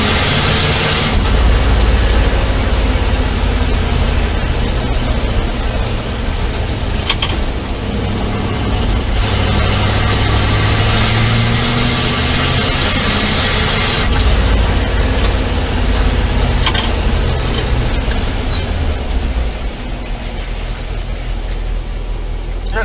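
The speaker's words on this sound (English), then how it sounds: "this truck is not bad in the snow. I thought it would be a lot worse. It's actually a lot of fun to drive." A 1967 Chevy C50 truck engine drones steadily while driving through snow, a loud, continuous low rumble with shifting tones and a broad noisy wash throughout.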